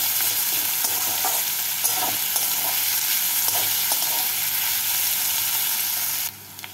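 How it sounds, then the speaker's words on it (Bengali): Chopped onions fry in oil for a potato and okra curry, a steady loud sizzle broken by repeated scraping stirs of a spatula, cutting off abruptly near the end. "পেঁয়াজটাকে তেলের মধ্যে নাড়াচাড়া করে হালকা লাল করে ভেজে নিচ্ছি।"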